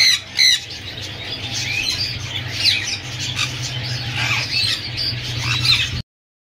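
Parrots squawk at a Sunday bird market in Bahawalpur, in loud, overlapping harsh calls and shrieks over a low background hum, with no speech.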